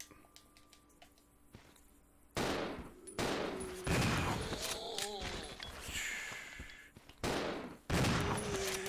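Gunfire against zombies in Resident Evil Zero: a series of sharp, loud shots spaced irregularly over a few seconds, mixed with squishy impact sounds and faint player voices.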